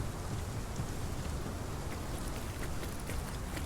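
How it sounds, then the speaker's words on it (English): Steady rain in the dinosaur survival game Path of Titans, a dense, even hiss of falling drops with a low rumbling wash underneath, continuous and alone without any talking. "of course it's going to rain"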